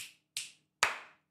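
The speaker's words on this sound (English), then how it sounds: "By the snap of my fingers and the clap of my hands" Three sharp, separate hand claps with short gaps between them, each one crisp with a quick decay. The claps grow slightly louder toward the last one and are heard alone, without any talk.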